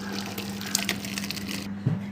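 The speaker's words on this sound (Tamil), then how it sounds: "இப்போ இதை எடுத்து ஒரு வடிகட்டியில் போட்டு தண்ணியை வடித்து எடுத்துடலாம்" Water drains out of parboiled rice tipped into a strainer during Hyderabad veg dum biryani preparation. A brief, soft gushing trickle plays over a steady low hum.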